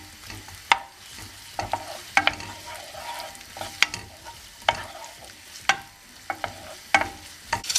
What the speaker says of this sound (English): So I allowed this onion and garlic to saute for 3 minutes.